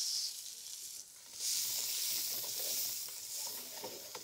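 Plenty of onions with whole spices and shahi jeera frying in ghee, a faint, steady hiss of sizzling that swells briefly and carries on with light stirring.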